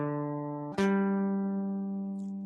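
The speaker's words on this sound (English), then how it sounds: "The perfect fourth, it sounds like this from the root." A mountain dulcimer plays a perfect fourth from the root: a ringing plucked note is followed by a second pluck that moves up to the higher note, which sustains and fades slowly, close and clear.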